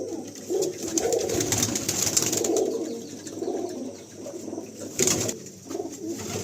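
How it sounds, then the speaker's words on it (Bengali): Cargo pigeons cooing in a large pigeon loft in South Kolkata, overlapping low throaty coos from several birds nearby, steady throughout with a brief louder flutter or rustle near the end. "দেখুন এই একটা মালবাহী পায়রা দেখুন"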